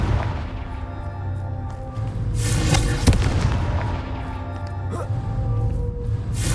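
Confringo fire blast spell in the video game Hogwarts Legacy, a loud booming burst with a sharp crack near the middle amid rumbling, fiery game effects, heard alone without talk.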